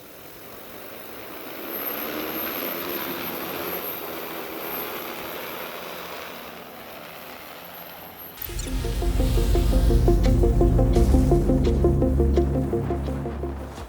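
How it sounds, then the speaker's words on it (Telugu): X9 agricultural spray drone spinning up for takeoff in a heavy wind, a whirring hum that swells into a loud, steady roar of propellers close by, with no talking. "సో ఇప్పుడు మనం డ్రోన్ అయితే టేక్ ఆఫ్ చేద్దాం"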